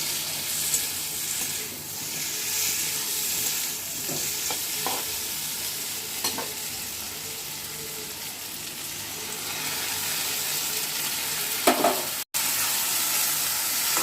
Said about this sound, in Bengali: এবার বেটে রাখা মশলাটা দিয়ে দেব।